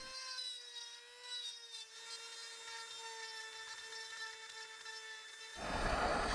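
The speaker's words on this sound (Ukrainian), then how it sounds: "Пеньку робимо паз фрезою." A milling cutter machines a groove into a wooden stump: a steady high motor whine runs throughout, then a loud, harsh burst of cutting noise breaks in near the end.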